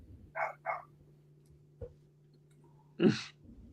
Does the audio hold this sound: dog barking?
yes